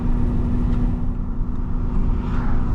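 Steady interior cabin rumble of a 2019 Audi TT S on the move, a dense low engine and road drone holding even and close throughout with no voices.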